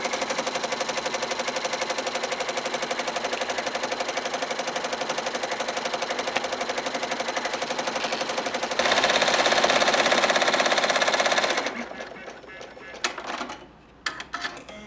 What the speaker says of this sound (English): And the machine immediately begins sewing.